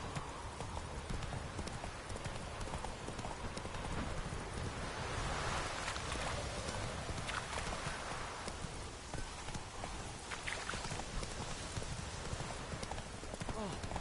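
Hooves of Roach, the horse in The Witcher 3 game, clip-clop steadily through the whole stretch, mixed with rustling, wind and light outdoor ambience, with a voice talking over them at times.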